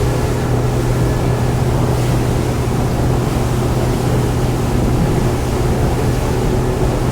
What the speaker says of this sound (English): 350 horsepower, perfect as a picnic boat.